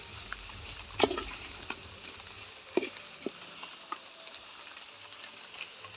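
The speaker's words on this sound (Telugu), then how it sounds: "కలపాలి షబీర్ భాయ్, ఇంకా మంచిగా కలపాలి." A pot of country chicken curry with green chillies is stirred, giving faint, scattered scrapes and clinks over a soft, steady sizzle, with a couple of sharper knocks early on.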